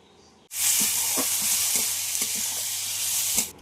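Chopped onions, tomato and garlic paste hit a hot pan for a meat curry, bursting into a loud sustained sizzle with rhythmic stirring scrapes, close up and unbroken until it stops abruptly.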